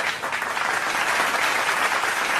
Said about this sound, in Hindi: जोरदार तालियों से आप उनका सम्मान करें